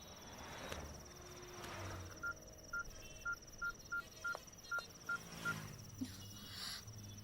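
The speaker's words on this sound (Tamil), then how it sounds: "ஹே, நீ வித்யாக்கு ஃபோன் பண்ண" Telephone keypad tones sound as a number is dialed, about ten short evenly spaced beeps in a quiet room under faint background hum.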